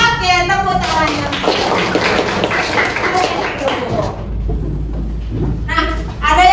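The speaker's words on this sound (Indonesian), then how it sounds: "Oke, tepuk tangannya." Schoolchildren in a classroom clapping their hands together, a busy cluster of claps mixed with kids' chatter, followed by a brief lull and then more young voices.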